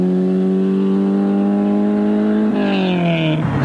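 A Toyota Corolla rally car, ex-Stu Warren, on a gravel stage in Southland, New Zealand, holds a loud steady high-revving engine note that rises briefly and then drops away as it passes close by.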